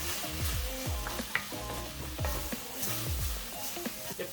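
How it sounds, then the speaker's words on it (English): Spice mix and tomato paste fry in oil in a pan, a steady close sizzle broken by repeated scraping stirs and light clinks of a utensil against the pan. "Now we're going to go in with our spice mix and our tomato paste"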